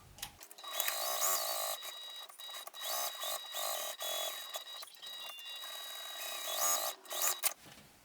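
A sewing machine stitches a handmade bag together in steady, close runs of whirring, pausing briefly between bursts, with no talk over it.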